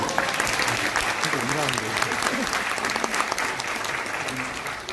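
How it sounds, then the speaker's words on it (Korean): An audience at a special session of the Jeju Forum for Peace and Prosperity gives a sustained, dense round of applause for about five seconds, with a voice briefly audible underneath. "다시 한번 크게 박수 합니다"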